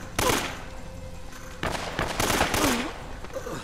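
Bursts of gunfire in Uncharted: Drake's Fortune, two loud volleys of rapid shots separated by a short lull, the second longer and sustained, close and harsh with no voice over them.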